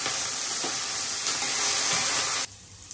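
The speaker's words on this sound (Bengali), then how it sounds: "আর এই যে আলুটা দিয়ে দিলাম। আলুটা এখন ভাজা নিই।" Potatoes sizzle loudly in hot oil with bay leaf and cumin in a pan, a steady dense frying hiss that drops away sharply near the end.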